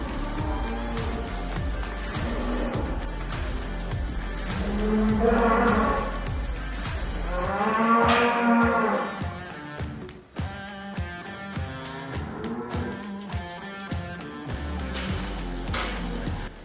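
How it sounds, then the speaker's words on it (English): A cow and her newly adopted calf in a farm barn, with drawn-out moos and lowing rising loud and close over a busy background of shuffling and thumps. "introduce the adopted calf to its new mum"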